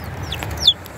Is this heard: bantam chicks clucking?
yes